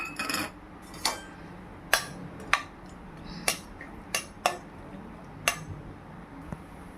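A metal spoon clinks and scrapes against a pan in irregular taps while cashews fry in ghee, with a soft background hiss and no talking.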